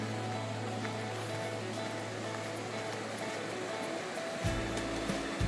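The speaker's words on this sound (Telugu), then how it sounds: "చూడండి జలపాతం ఈ వాటర్" Constant rushing roar of the Sariya waterfall, a broad steady wash of noise, with a brief low thump near the end.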